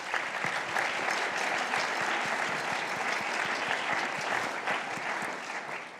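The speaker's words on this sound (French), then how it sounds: "Je crois qu'il mérite un applaudissement." An audience at a film screening at the Swiss Cinémathèque breaks into sustained, dense applause, many hands clapping steadily for several seconds before easing slightly.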